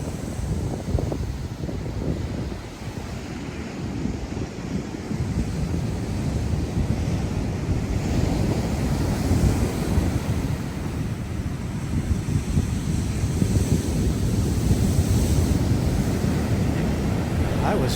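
Ocean surf rolls onto a beach on the Redwood Coast near Ferndale, a continuous wash of breaking waves with wind buffeting the microphone throughout, steady and fairly loud with no clear voices.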